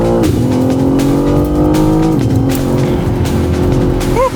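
BMW M3 Touring rally car launching hard on a classic tarmac rally stage, its engine roaring loud and close as it revs up through gear changes, with a brief tire squeal, no talk.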